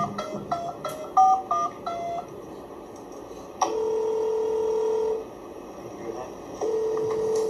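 Telephone keypad tones dialing a phone call, a rapid run of short DTMF beeps followed by longer sustained tones, clear and close over faint room noise.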